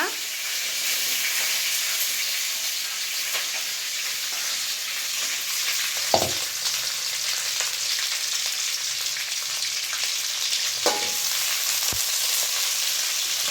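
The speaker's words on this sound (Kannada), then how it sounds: "ಹಾಗೆ ಕರಿಬೇವು ಸೊಪ್ಪು, ಬೆಂಡೆಕಾಯಿ ಹಾಕ್ತಿದ್ದಾರೆ ಈಗ." Okra and curry leaves frying in a hot pan for a hotel-style masala okra sambar: a steady, loud sizzle and hiss throughout, with a few brief clinks of stirring.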